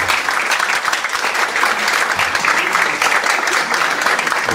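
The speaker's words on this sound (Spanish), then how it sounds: "les pido un aplauso, por favor, a los asistentes antes de empezar" Dense, steady audience applause at a panel discussion on private investment and the environment, continuous and fairly loud, with no voices breaking through.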